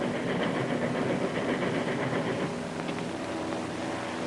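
A train runs steadily in a 1937 film, a dense continuous rumble and rattle with faint rhythmic clicking, close and unbroken, with no talk over it.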